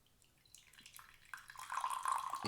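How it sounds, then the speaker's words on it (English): Tea poured from a French press trickles and splashes into a glass, faint at first, then building into a brighter, fuller stream toward the end. "we're gonna pour the tea"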